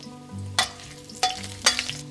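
Ginger slices, star anise and chopped scallion stir-fried over low heat in a generous amount of hot oil, a steady sizzle with three sharp bursts of crackling as ingredients are tossed or stirred.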